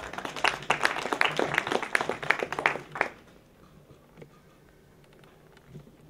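Audience at the African Union Expo claps and applauds in a dense burst for about three seconds, then it fades to quiet room noise.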